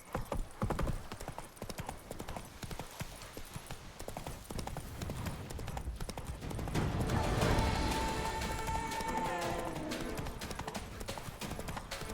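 Roach, Geralt's horse in The Witcher 3, gallops with steady rapid clip-clop hoofbeats amid busy game sound, a brief whinny and a swelling musical score rising over the second half.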